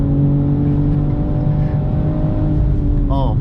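A 2022 BMW M440i Gran Coupe's engine roars steadily and loudly under full throttle, a sustained droning growl with a faint whine climbing near the end, while a voice talks over it.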